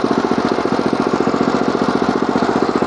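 Husqvarna TF440 walk-behind petrol tiller engine running at low revs, a loud, close, steady rapid chugging pulse with even rhythm throughout and no talk.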